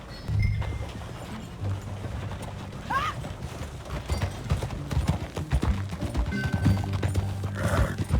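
A horse ridden in the Red Dead Redemption 2 game gives a steady clip-clop of hoofbeats throughout. Game music and ambience play underneath, with a brief high call partway through.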